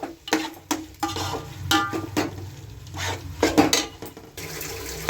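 A spoon stirs chicken ghugni with salt in a pot, giving close, irregular scraping clanks and knocks against the metal, with soft wet sloshing between the strokes.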